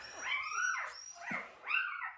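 Newborn puppies whimpering and whining in a whelping box, several rising and falling cries in close succession, near and fairly loud with no talking.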